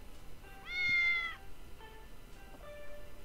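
Mutated cats in Postal 2 Apocalypse Weekend give one loud, stretched meow followed by a few quieter, shorter cries that sit over a low constant game ambience.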